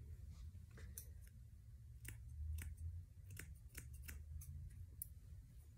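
Thinning shears snip through a Standard Schnauzer's coat during head and neck grooming, a series of close, crisp, irregular cuts over a low background rumble.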